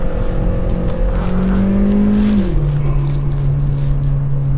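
A Volkswagen Polo GT engine drones loudly with a rising whine that climbs, then drops sharply as the revs fall, as the turbo spools up and releases.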